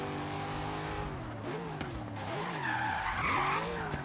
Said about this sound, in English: Lots of tire spin.